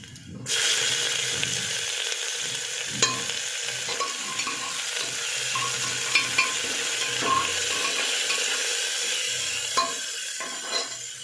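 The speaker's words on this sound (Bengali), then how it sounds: "তো বন্ধুরা আমার পেঁয়াজটা এই যে ভাজা ভাজা হয়ে এসছে।" Onions frying in a pan with cumin, dried chilli and garlic give a steady, close sizzle that runs throughout, with occasional clicks and scrapes from stirring.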